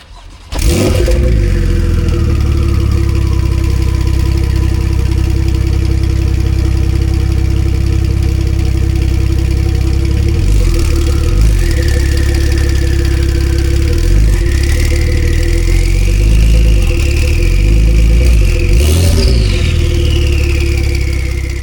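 The 2023 Porsche 911 Carrera 4 GTS flat-six fires up with a sharp bark, settles into a loud, steady idle, then is blipped through several quick revs that rise and fall, close and alone without speech.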